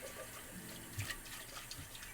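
Water runs steadily from a kitchen tap into a sink while cooking, a continuous hissing splash with small bumps and spatters as hands move under the stream, close to the microphone.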